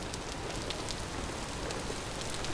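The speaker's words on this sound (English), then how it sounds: "It's been raining all night, sir." Steady rain falls in a video game, a dense, even hiss of drops pattering on surfaces that holds at a constant level throughout with no voices.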